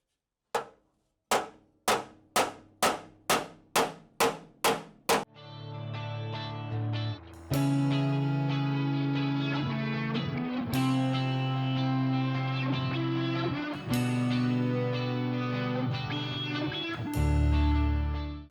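Sharp metallic hammer blows strike a steel Porsche 911 suspension pan, first as about ten evenly spaced ringing hits, then as a denser stretch of loud resonant clanging and ringing up close.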